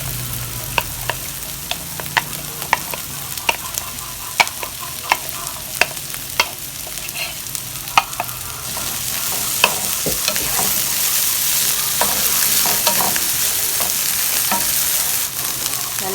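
Okra frying with cooked tomatoes in a pan: a utensil taps and scrapes rhythmically against the pan, then a loud, continuous sizzle swells up close as the vegetables hit the heat and stirring goes on.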